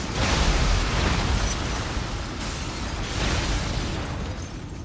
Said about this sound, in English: Oh, just saw this hellacious explosion.